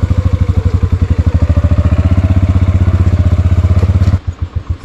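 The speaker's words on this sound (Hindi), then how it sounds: "बाइक स्टार्ट किया है" A motorcycle engine runs just after being started on a mountain road in Neelum Valley, Azad Kashmir, putting out a steady, close, loud idle of rapid even pulses before it briefly changes and drops near the end.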